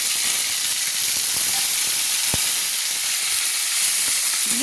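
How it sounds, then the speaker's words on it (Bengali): Onion paste sizzling and frying in hot oil for a ghugni curry, a steady broadband hiss held at even loudness from start to finish with a faint click partway through. "সেই পেস্ট করা পেঁয়াজ আমি দিয়ে দিচ্ছি"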